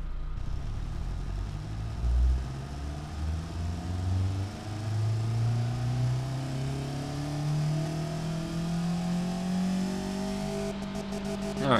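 A car engine runs on a dyno in the Automation game, revving steadily upward in a long, rising sweep with a smooth mid-pitched whine and no talk over it.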